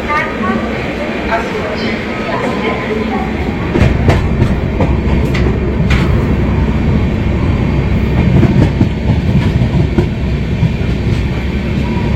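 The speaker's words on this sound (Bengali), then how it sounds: "2 নম্বর প্ল্যাটফর্ম থেকে ট্রেন ছাড়লো বালেশ্বর থেকে" Puri Shatabdi Express passenger train pulling out of Balasore station, heard from inside the coach as a loud steady rumble with clickety-clack wheel beats and rattling.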